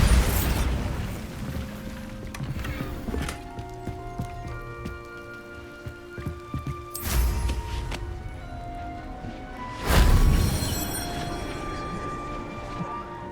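Bombarda spell explosions in Hogwarts Legacy, three loud bursts at the start, about seven seconds and ten seconds, each followed by a crackling, debris-like decay over a tonal game score, no voices.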